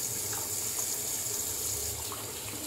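Steady running tap water at a sink while rinsing off after a wet shave, a continuous close hiss and splash with no talking.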